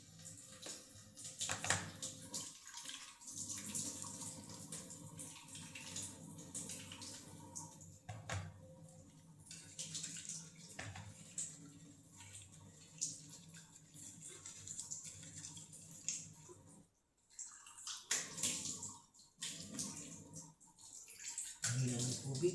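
Tap water running steadily during face washing outdoors at a mango orchard, a continuous broadband splash with small drips and shifts in flow, briefly cutting out near the end, with some background sounds.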